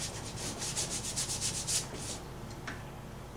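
A paintbrush scrubs paint onto a surface in quick repeated strokes, a close, rough rubbing hiss for about two seconds, then a few lighter scratchy touches with no voices.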